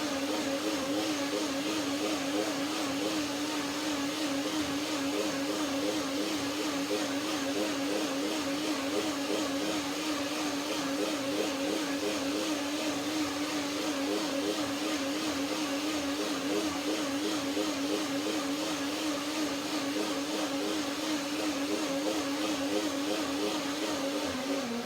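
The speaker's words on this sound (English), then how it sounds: "One more blender dance to see what happens with the creaminess here." A blender whirs continuously through a batch of cashew cream, a steady, loud motor drone with a wavering pitch that holds unbroken from start to finish.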